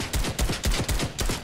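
Rapid gunfire in a video game, a fast string of about six loud, sharp shots in quick succession, close and punchy with no talking.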